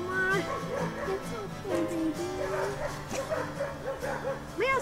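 A mother dog barks, yips and whimpers repeatedly during a rescue of her puppies from under a bombed-out trailer, her cries rising and falling close by and fairly loud.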